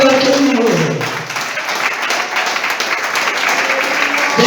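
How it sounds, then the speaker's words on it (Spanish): A church congregation claps together in a sustained burst of applause, dense and fairly loud, with a preacher's voice briefly heard at the start as the clapping builds. "Aplaudan al que vive."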